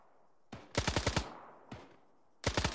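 Automatic gunfire in a military video game comes in sharp, close bursts of several rapid shots, with single cracks between them, all loud and without talk.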